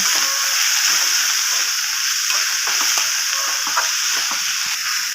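Small shrimp fry in a hot wok (kadai) as the last of the water cooks off, a loud, continuous sizzle with scraping stir strokes throughout and no talking.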